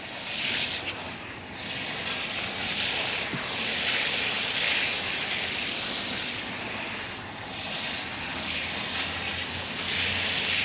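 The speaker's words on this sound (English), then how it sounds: "Wet this down really good, give it a nice soaking." Garden plants being watered to soak the soil, a continuous broad hiss of spraying water running steadily for several seconds, close and fairly loud.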